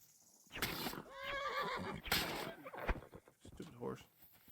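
A horse in Kingdom Come: Deliverance 2 whinnies loudly up close, with a second shorter neigh and a few hoof clops and rustles following.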